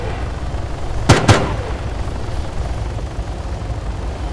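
Two sharp gunshots fired in quick succession in a video game, standing out over a steady low rumble like a helicopter or engine drone, with no talking.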